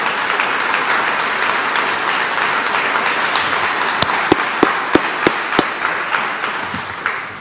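An audience at a military retirement ceremony claps in a sustained, even round of applause, with a few sharper, closer claps standing out near the middle before the sound starts to thin toward the end.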